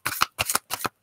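Tarot cards are shuffled in four quick, crisp riffling bursts with short silent gaps between them, close and clear with no talking.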